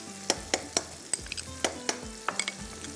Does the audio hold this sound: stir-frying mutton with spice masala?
yes